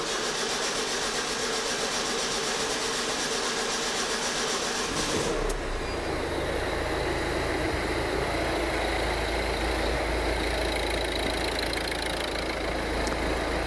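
A Ford Transit Connect 1.5 TDCi diesel van with a hard-starting fault drones steadily, then catches partway through and settles into a constant low engine rumble, heard without speech.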